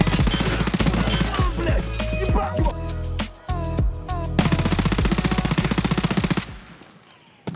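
Rapid automatic fire from a P90 in Escape From Tarkov, sustained close bursts with short pauses, loud and dense, fading to quiet at the end.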